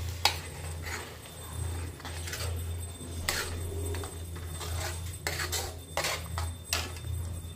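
A spatula works spinach paneer around a kadai, giving irregular metallic clinks and scrapes over a steady low hum, with no talking.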